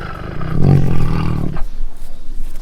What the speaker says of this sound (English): Do you know how the tiger sound is like?